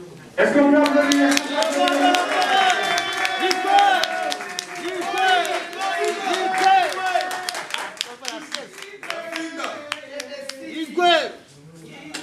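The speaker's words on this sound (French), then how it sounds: "Est-ce qu'on peut applaudir?" A crowd at a Paris press conference for Werrason claps steadily and loudly, individual sharp claps standing out over a busy wash of voices and cheers, thinning toward the end.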